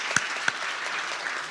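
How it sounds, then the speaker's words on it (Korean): Applause from a church congregation during a Sunday worship service, a steady wash of clapping with a couple of sharper claps near the start, lasting just over a second and a half. "예, 박수 한번 할까요?"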